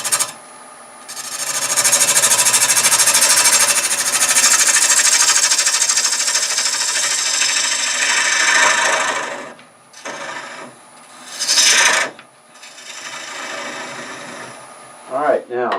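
A wood lathe turns while a tool scrapes the spinning face of a kitchen canister blank, making a loud continuous rasping whir, then several short bursts of cutting after a pause.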